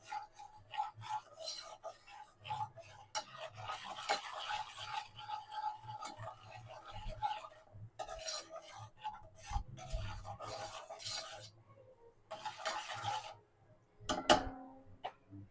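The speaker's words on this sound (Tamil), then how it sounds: "இப்போ இதை நல்லா மிக்ஸ் பண்ணிக்கலாம் இந்த நல்லெண்ணெயோடு சேர்த்து." Onion pickle stirred together with sesame oil in a home kitchen, giving faint, irregular scraping and clinking of a spoon against the vessel in short bursts with quiet gaps.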